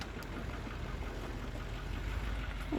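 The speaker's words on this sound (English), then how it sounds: "looks like one of the neighbors is driving" A neighbor's car engine running nearby, a low steady rumble at moderate distance, continuous and fairly faint.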